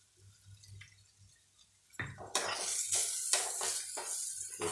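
Raw mango chutney is stirred in a pan. The first half is quiet, then a run of close, rhythmic scraping strokes follows, with a soft sizzle underneath.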